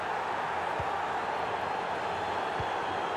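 Steady, dense stadium crowd roar from a FIFA 20 football match, a constant wash of noise with a couple of low thuds, no clear cheers standing out.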